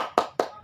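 Two sharp hand claps spaced evenly in a classroom chant led by a teacher for first-grade children, each clap loud and close with a quick decay.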